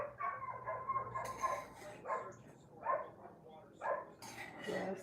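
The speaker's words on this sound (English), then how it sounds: "What is wrong with those dogs now?" Several dogs bark and yip in short bursts at a distance, roughly five or six separate barks spaced through the moment, fairly faint against a quiet background.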